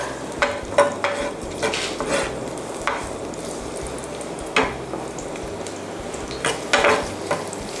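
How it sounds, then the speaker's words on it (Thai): Sliced garlic sizzles steadily in oil in a pan while a utensil stirs and scrapes in irregular bursts. "ใส่กระทะนะคะ หลังจากนั้นก็เป็นกระเทียมซอยนะคะ เจียวให้หอมสักนิดนึงนะคะ"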